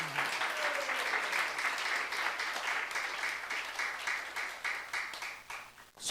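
A church youth congregation claps steadily in dense, sustained applause, giving glory to God, loud and full from start to end with little talk.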